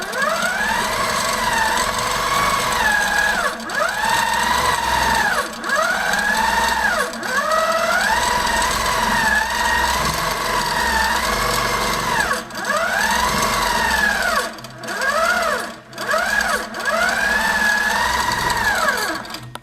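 A Handi Quilter longarm quilting machine stitches in steady, rapid bursts, each run of whirring needle motion rising and falling in speed with short pauses between, close and fairly loud with no talking.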